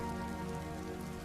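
Rain falls on a stormy night near a lonely village, a dense, steady patter of drops on surfaces that continues without break.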